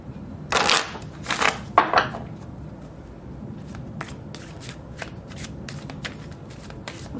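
Tarot cards shuffled by hand: three loud riffling bursts up front, then a run of quieter, evenly spaced card snaps and flicks, close and clear with no talking.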